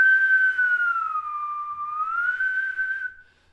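A single sustained whistled tone that slides down in pitch and then rises back, imitating the bent note of a harmonica blow bend, clear and close with no talking.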